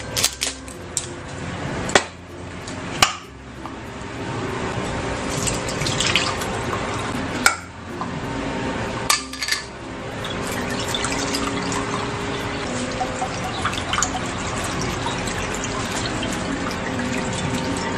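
Liquid drains and drips from nata de coco being strained for a macaroni fruit salad, a steady wet trickle with occasional sharp clinks and taps of the strainer and container.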